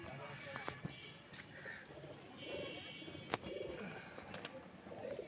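Pigeons of a high-flyer tumbler breed are let loose on a street, with soft cooing and faint wing sounds under steady background noise and distant voices.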